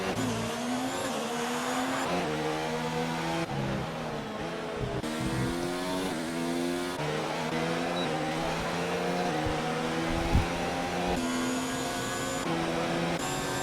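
Several race cars in a sim racing video game at the Singapore street circuit, their engines droning loudly and shifting in pitch as they run close together, with gear changes breaking the whine throughout.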